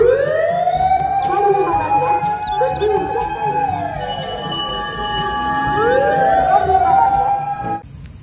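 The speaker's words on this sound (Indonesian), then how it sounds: "Wih, ada truk pemadam kebakaran." Toy fire truck siren wailing loudly and continuously, its pitch sweeping up and down in long rising and falling cycles before cutting off near the end, with a steady hum beneath.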